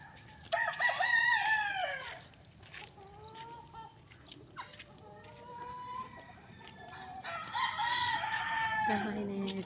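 Chickens and roosters crow and cluck on a small mini farm, with several loud, drawn-out crows at the start and again near the end, and a lower stretch of clucking and faint calls in between.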